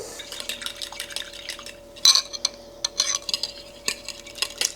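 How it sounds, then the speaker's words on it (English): A tomato mixture for 1920s tomato jelly is stirred, with a utensil clinking and scraping against the container in quick irregular strokes alongside soft wet sloshing, close and fairly loud. "I think we better stir that"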